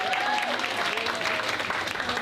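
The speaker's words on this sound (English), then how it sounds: "he deserves a round of applause because he is so awesome" Audience applause at a showcase event, a steady wash of clapping from a crowd that holds an even level for the whole stretch, with faint voices blended into the noise.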